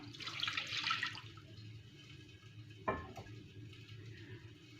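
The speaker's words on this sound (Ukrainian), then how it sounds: "В миску я наливаю 250 г теплого молока." A short pour of warm milk splashes into a bowl, followed by a light clink and quiet kitchen background noise.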